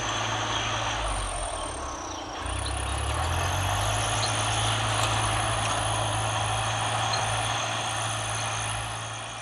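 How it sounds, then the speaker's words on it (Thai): A rice-seeding tractor engine runs steadily and fairly close in a paddy field, with a low rumble that shifts in pitch partway through and a constant mechanical drone throughout, and no voices. "อีกคันหนึ่งก็คือเป็นรถสำหรับการหยอดข้าวนะครับ"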